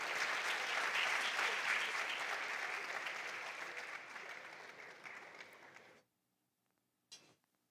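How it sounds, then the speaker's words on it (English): A crowd at a junior science and maths quiz championship claps loudly and steadily for several seconds, fading out and stopping abruptly, followed by a brief faint clatter after a pause. "A round of applause for KNUST."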